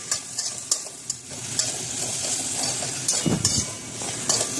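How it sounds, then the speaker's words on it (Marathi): Chillies, coriander stems and peanuts frying in oil for a chutney: a steady close sizzle with intermittent spoon scrapes and light metallic clinks against the pan, and a louder stirring burst near the end. "थोडे शेंगदाणे टाकून तेलामध्ये सॉफ्ट होतपर्यंत परतवले आणि ते चांगलं परतू द्यायचं"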